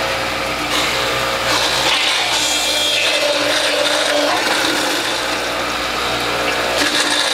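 A WHF juicer grinds apple slices with a continuous loud whirring and rasping drone, steady throughout and without any talk.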